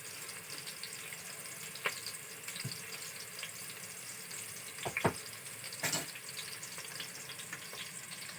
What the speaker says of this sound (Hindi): प्याज जब तक ब्राउन हो रही